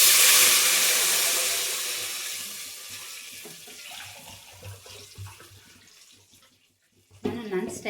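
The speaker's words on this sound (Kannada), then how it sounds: "2 ಗ್ಲಾಸ್ ನೀರು ಹಾಕೊಂಡಿದ್ದೀನಿ." Water pours into a cooking pot with a strong rushing splash that fades as the pot fills, then a brief clatter of the vessel.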